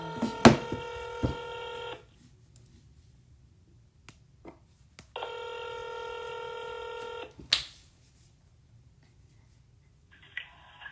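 A telephone call rings out through two long burst-tone rings, each about two seconds, separated by quiet line hiss, with brief clicks and a short tone at the end.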